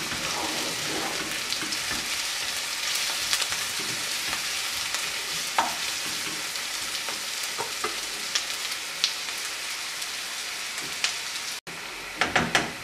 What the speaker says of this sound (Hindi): प्याज को ब्राउन करेंगे इसी ऑयल में हम।